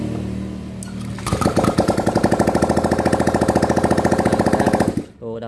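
Honda Vario 125 scooter engine running after an oil service, first a low idle, then a loud, rapid, steady pulsing beat that holds for about four seconds before cutting off abruptly.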